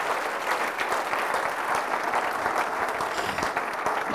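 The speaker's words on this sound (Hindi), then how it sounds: "जोरदार ताली से खुदा के नाम पे दुआएं" A church congregation claps at a Friday sermon, giving steady, dense applause from many hands. It carries at a moderate level for the whole stretch with no pauses.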